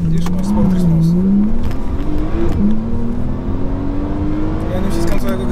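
A Porsche 911 Turbo S with 580 HP accelerates hard from inside the cabin, its engine note rising steadily through the gears and dipping at a shift, loud and sustained while people talk over it.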